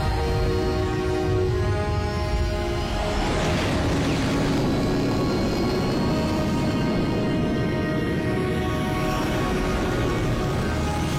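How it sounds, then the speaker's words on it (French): A cartoon vehicle's vertical propulsion engages for takeoff in an animated series: a loud, steady engine roar with a rising whoosh, continuous and close throughout, without talk. "Propulsion verticale enclenchée."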